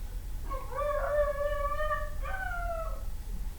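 A dog howls twice, a long wavering tonal howl followed by a shorter one, clear and fairly close over a quiet low hum, with no talking.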